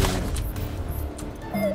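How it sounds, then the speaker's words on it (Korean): Gunfire in the Overwatch video game on the Temple of Anubis map: a loud, dense volley of close shots and thumps that continues without pause through the short moment. "총소리 좀 들려주면."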